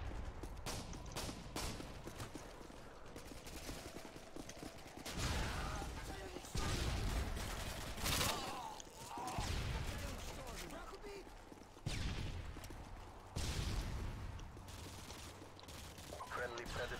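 Gunfire from the video game Call of Duty: Modern Warfare 2 bursts in dense, loud rattling volleys that stop and restart throughout, with players talking over the shooting.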